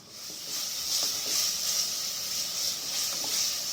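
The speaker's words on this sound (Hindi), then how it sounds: "3 मिनट तक मैं अच्छी तरह से मसाले को भून लूँगी" Masala spices and green chillies frying in a hot pan, a steady sizzling hiss that swells and eases in waves, with occasional soft stirring taps and no talking.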